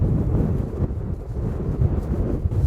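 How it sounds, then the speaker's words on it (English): Strong wind on Svalbard during the dark polar night, a loud, low buffeting roar battering the microphone without letup. "Oh my gosh, the wind."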